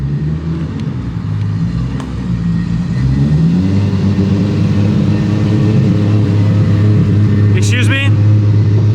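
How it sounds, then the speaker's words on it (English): A Mark IV Toyota Supra idles and rumbles nearby, its low engine drone rising slightly partway through and holding steady, with a brief high squeal near the end. "It's a Mark IV Toyota Supra."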